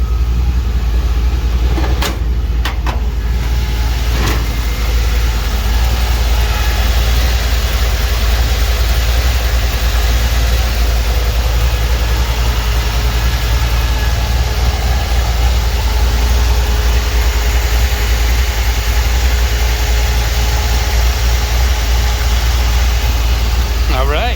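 Steady low rumble of a 1949 Chevy 3100 truck engine idling nearby, loud and unchanging for the whole stretch, with a few faint clicks early on.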